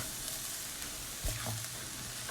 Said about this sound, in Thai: ต้องใช้เวลาผัดตรงนี้ประมาณ 5 นาทีนะคะ เพราะว่าเพื่อให้รสชาติเข้าไปที่หน่อไม้